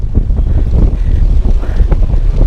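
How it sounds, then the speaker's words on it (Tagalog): A headwind blows while cycling on the road, a loud, continuous low rumble of wind buffeting the microphone, steady and close, with no talk. "Sinasalubong natin yung hangin mga tropa."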